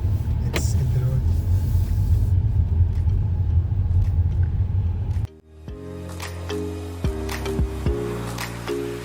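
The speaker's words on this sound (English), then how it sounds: "Let's go on a quick drive now." A Hyundai i20 N-Line car drives on a Bengaluru road with a loud, steady engine and road rumble, which then drops off abruptly into a quieter cabin with tonal beeps and soft knocks.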